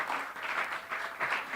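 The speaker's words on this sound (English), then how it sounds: "So please give a round of applause for" A round of applause from the audience at a schools debate final, honouring the presenters: steady, dense clapping from a crowd, fairly close and sustained throughout.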